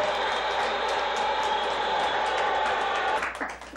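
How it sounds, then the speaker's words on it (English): Studio audience applause on a comedy variety show, a steady broad roar of clapping that holds level and then starts to thin and fade near the end. "And can I get any applause?"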